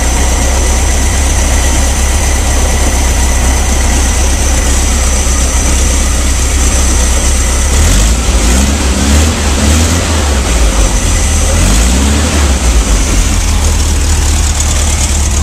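A 1971 VW camper bus engine, just back together after a fuel pump repair, runs steadily with a constant low rumble and mechanical hum throughout, loud and close, with no talking.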